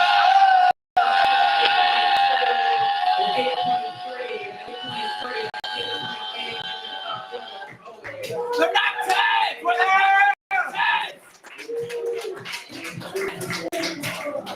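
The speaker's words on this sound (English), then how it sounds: "Were you yelling something at me or at the judges?" A poetry slam audience yells and whoops loudly as a crowd, with sustained cheering and shouts that break into scattered bursts of calls and brief talk.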